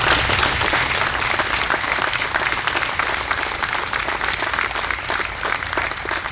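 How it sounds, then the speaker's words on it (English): A crowd at a Memorial Day ceremony in West Orange, New Jersey, applauds the West Orange Fire Department, the clapping loud, dense and sustained throughout before easing slightly at the end. "A round of applause for the West Orange Fire Department."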